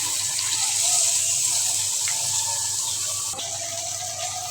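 Water pours steadily into a cooking pot of spiced curry (garam masala already added), a continuous close rushing hiss that runs the whole time, with a small knock near the end.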